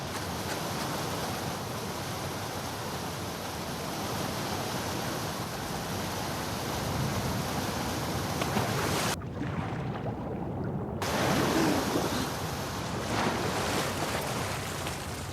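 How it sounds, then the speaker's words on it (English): Rushing torrent of fast-flowing water in The Last of Us Part II, a dense, roaring wash of noise that holds steady throughout, broken by one abrupt muffled dip midway. "the player was faced with a fast-flowing torrent of water they couldn't cross"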